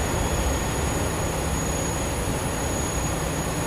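A freight train running in a train simulator game, a steady dense rumble of wheels and wagons with a faint high whine, continuous and fairly loud throughout.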